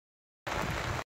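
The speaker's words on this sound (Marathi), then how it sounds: "शर्मा राय व पाऊस जोरात झाला आता" Heavy rain pouring down at a street food stall, a dense steady wash of drops that starts suddenly after silence and cuts off briefly near the end.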